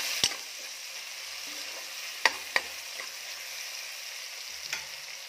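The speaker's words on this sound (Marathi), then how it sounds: "तर छान हे परतून घेऊया." Malvani-style chicken masala with tomatoes sizzles steadily in a pan as it is sautéed, with a few sharp clinks of a stirring utensil against the pan cutting through the frying hiss.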